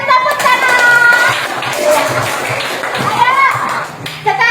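A classroom of children bursts into sustained, loud clapping mixed with excited young voices and chatter, fading slightly before a fresh burst near the end.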